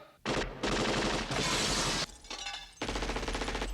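Glass shattering under gunfire in the Die Hard film, several loud bursts of breaking glass and rapid shots separated by short gaps, close and harsh with no talk.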